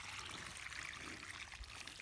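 Water running steadily from an old spring pipe, a soft continuous pour and trickle, fairly quiet and uninterrupted, with no voices.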